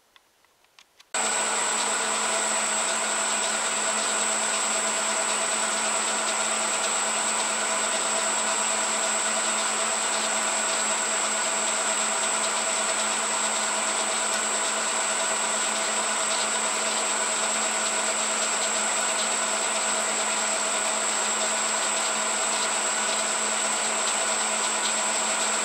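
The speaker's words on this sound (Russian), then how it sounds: "Ну а дальше сверлим." Drill boring into the head of a steel bolt, a loud steady motor whine starting abruptly after a few faint clicks and running unbroken for over twenty seconds, with no speech.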